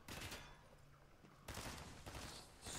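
Bursts of video-game gunfire crackle at the start and again from midway on, loud and dense, with a quieter gap between volleys.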